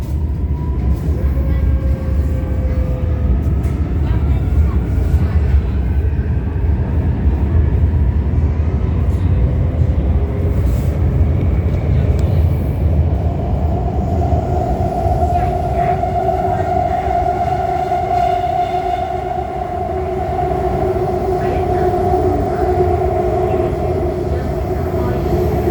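Older traction motors of a Shenzhen Metro Line 4 train drone continuously with loud rumbling rolling noise, a rising and falling motor whine emerging steadily over the second half as the train runs between Niuhu and Qinghu.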